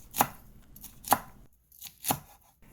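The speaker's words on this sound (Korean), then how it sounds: "청고추와 홍고추도 하나씩 썰어주시고요" A knife slices through green and red chili peppers on a cutting board, giving three sharp, separate chops spaced about a second apart, close and crisp, with quiet gaps between them.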